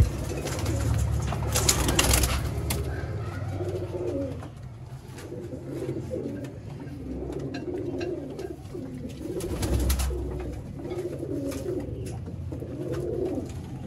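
Purebred Ferozpuri pigeons coo steadily in low, repeated throaty phrases, close and continuous, with occasional rustling and brief louder bursts of flapping or movement.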